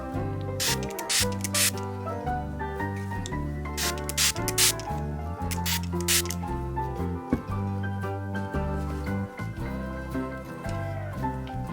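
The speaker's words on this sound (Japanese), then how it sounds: "ティッシュで空の部分に養生をして上からスプレーをかけます。" A spray bottle mists water over a watercolor pencil painting of waves, its sky masked with tissue, giving several quick hissing bursts over a steady background of soft music.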